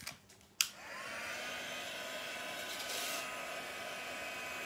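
Hair dryer blowing to dry watercolour paint, switched on after a few faint taps and then holding a steady, close, loud whooshing roar with a faint whine.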